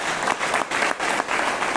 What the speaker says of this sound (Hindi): एक बार पूरा सदन तालियां बजाए